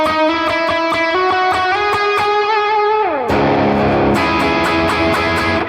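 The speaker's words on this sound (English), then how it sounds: "These are the settings for the overdrive, and it sounds like this." A PRS Custom 24 electric guitar runs through a green 808-style overdrive on a Quad Cortex, playing crunchy picked notes and a sliding bend, then loud driven chords that ring out, with no talking.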